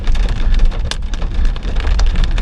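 Dense hard hail patters loudly and continuously on the roof of a moving car on a one-lane mountain road near Ouray, with sharper louder hits scattered through the constant roar.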